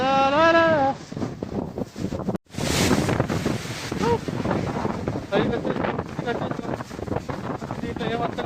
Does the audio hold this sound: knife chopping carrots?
no